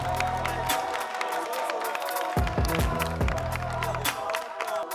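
Studio audience at a French rap contest stage show clapping and cheering as a contestant walks on, a dense steady wash of applause with scattered whoops throughout, a voice speaking over it at times.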